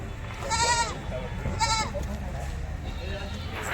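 Two wavering bleats from a Karoli-Beetal cross goat at a goat market, a second or so apart, rise over a low background rumble, fairly close and clear.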